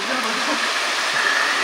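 A waterfall near a forest at Kanthalloor in Munnar, heard as a steady, dense rush of falling water that stays close and constant throughout, with no talk over it.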